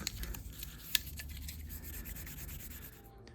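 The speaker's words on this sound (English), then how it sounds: "The reason I'm using 3000 grit is I don't want to wear these ridges, so I want to take very little off." Fine 3000-grit sandpaper rubs across chrome dash trim on a 1955 Chevy, a steady soft scratchy hiss with one brief sharper tick near the start, close and fairly quiet, no voices.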